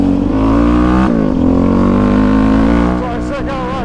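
A Yamaha Raptor 700 ATV engine on a winter ride over slick ground: a loud, close, droning growl with a steady pitch that dips sharply for a moment, then settles lower as a voice speaks over it.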